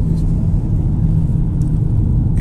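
A 2023 VW Taos Highline turbo engine with a six-speed gearbox pulls hard under acceleration, heard as a steady, loud low rumble and drone from inside the car, with no talk over it.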